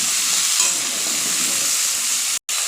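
Cut potatoes and prawns fry in hot oil, a loud, steady sizzle close up that cuts out abruptly for a moment near the end before resuming.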